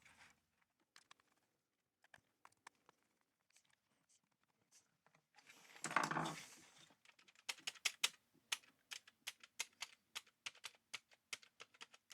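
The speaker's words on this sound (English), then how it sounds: "Not sure this keyboard membrane is going to work, but at least I'll have a nice loose spacebar." Fingers tapping on the keyboard membrane of a ZX Spectrum Plus under repair, giving sparse soft clicks at first and then a quicker run of close, crisp taps, with a brief rushing noise in the middle.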